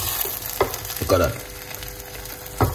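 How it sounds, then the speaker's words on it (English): Quinoa is stirred in a pan to dry it out, giving a soft continuous sizzle with a few distinct scraping strokes of the spoon, close up and moderately quiet. "Just gonna just stir and dry out."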